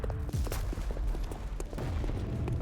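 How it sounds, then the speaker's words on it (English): Distant explosions in the Love and Deepspace video game come as a rapid run of booms and thuds under a dense, rumbling game soundscape, with no speech. "an ominous red glow lit up the night and was accompanied by faint, distant explosions"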